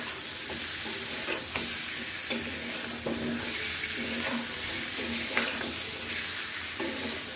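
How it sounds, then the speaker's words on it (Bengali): Pieces of fish fried and stirred in a cooked spice paste in a pan, with a steady close sizzle under repeated scraping and knocking strokes of a spoon, no voices. "মাছগুলো কিছুক্ষণ মশলার সঙ্গে কষিয়ে নেব"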